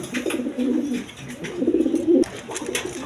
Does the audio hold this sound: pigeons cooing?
yes